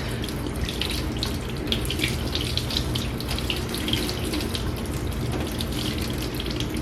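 Warm tap water runs steadily from a faucet into a sink to wet a makeup brush, a continuous close splashing stream with no talking.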